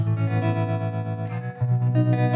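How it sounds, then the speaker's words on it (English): Sustained guitar chords through a rotary speaker effect on a Boss Katana amp, with a warbling, swirling chorus-like shimmer and a brief dip in level partway through. "there are amps that have got these spinning round rotary effects"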